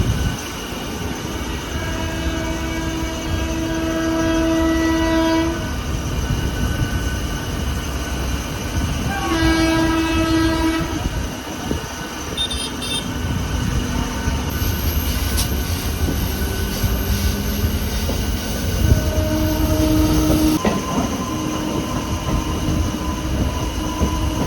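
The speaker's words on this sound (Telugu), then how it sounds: "కృష్ణానగర్ నుంచి మొదలైన జర్నీ, అద్భుతమైన ట్రైన్ జర్నీ" A Vijayawada to Guntur special passenger train rolls along steadily with continuous loud rumble and clatter, punctuated by several sustained horn blasts across the run and brief wheel squeals.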